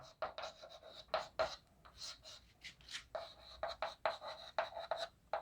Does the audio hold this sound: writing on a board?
yes